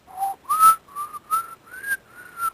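A person whistles a short tune in six clear phrases, each note sliding slightly in pitch, close and fairly loud with brief pauses between them.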